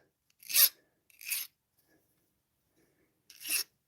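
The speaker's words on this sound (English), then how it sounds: "then you just lightly file these and smooth it down real quick" A hand file smooths Navajo sterling silver jewelry in three short, dry rasping strokes, two close together and one after a pause, quiet and close with silence between.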